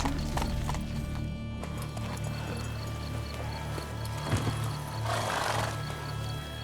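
Rhythmic clip-clop of horse hooves in The Witcher 3 fantasy game, a steady trot under a continuous ambient game score and hum, with no voices.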